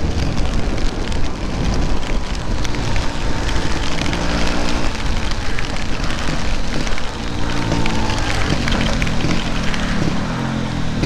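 Steady, loud rain pours down during a Vespa motorbike ride on Java's southern route between Purworejo and Wonosari, a dense unbroken hiss with a low rumbling undertone throughout.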